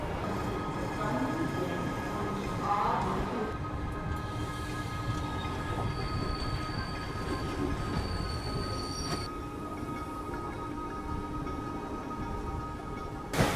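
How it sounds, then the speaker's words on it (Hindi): Garib Rath express train pulling out of Chennai Central station, heard as a continuous rumble of wheels with high metallic squeals and faint clicking from the rails, with people talking in the background. "अपना डिपार्चर हो चुका है चेन्नई सेंट्रल रेलवे स्टेशन से, और इस सफ़र की शुरुआत हो चुकी है"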